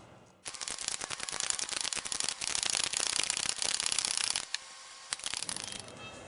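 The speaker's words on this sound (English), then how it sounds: "now we're going to use an 8mm socket to remove" An 8mm socket on a ratchet backs a bolt out while removing the EVAP canister from a 2017 Beta 390RRS motorcycle, giving steady, close, busy clicking and metallic ratcheting for about four seconds, followed by a few sparse clicks.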